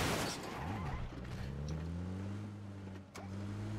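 Car engine in the PUBG video game, a steady drone with shifting pitch that rises and falls as the vehicle drives, close and continuous, with no talk over it.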